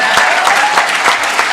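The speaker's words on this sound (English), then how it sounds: "applaud for God" A loud, close burst of audience applause at a sobriety meeting, a dense and even wash of many hands clapping together.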